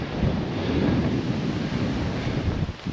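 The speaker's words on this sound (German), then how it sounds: "Nur Wind." Strong wind blows steadily across a barren, sandy countryside of harvested fields in the Turkish hinterland, roaring close into the microphone with constant low buffeting and gusts for the whole stretch.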